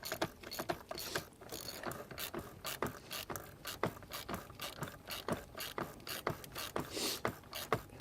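A Halfords Advanced ratchet tightening a part during a Range Rover service, rapid steady clicking in quick bursts, close and fairly quiet with no talking.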